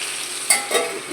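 Potatoes sizzle in hot oil with salt and turmeric, a steady bright frying hiss with a couple of brief stirring scrapes, close and without talking.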